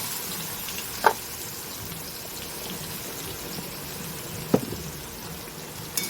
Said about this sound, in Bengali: পেঁয়াজটা এবার লাল লাল করে ভাজবো।